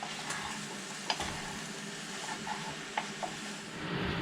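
About 1.2 kilos of lamb sizzling in a pan at an off-grid lakefront camp, a steady frying hiss with a few sharp clinks of a utensil scraping and stirring, moderately quiet and close, no talk.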